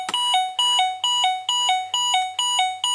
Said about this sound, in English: Kevin, how annoying was that buzzer?